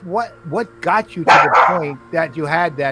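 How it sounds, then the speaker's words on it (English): A dog barks repeatedly in sharp, close yips and woofs, interrupting and overlapping a person speaking on a talk-show call. "Sorry, that was my dog."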